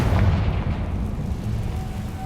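Confringo blasting spell in Hogwarts Legacy, a heavy low booming explosion that rumbles and fades over a couple of seconds, loud and close.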